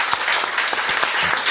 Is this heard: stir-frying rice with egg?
no